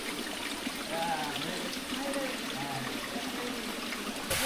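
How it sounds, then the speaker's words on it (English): A busy waterfall in the Taman Negara rainforest of Malaysia pours into a small pool, giving a soft, steady wash of flowing water under faint voices of visitors. "We're at the very busy waterfall now"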